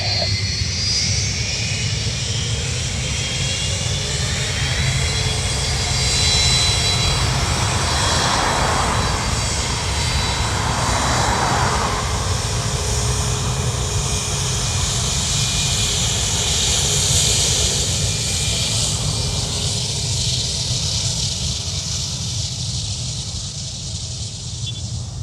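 United airliner taking off from runway 28 right at Dublin Airport, a loud continuous engine roar with broad rumble and faint whine that holds steady throughout, heard from a distance.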